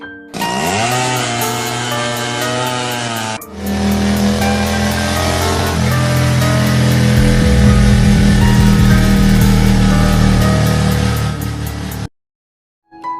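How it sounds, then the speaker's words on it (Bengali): A cartoon car engine cranks repeatedly without catching, a loud sputtering, chugging drone that shifts pitch partway through, grinds on for several seconds and then cuts off abruptly into silence. "মনে হচ্ছে গাড়িটা স্টার্ট নিচ্ছে না।"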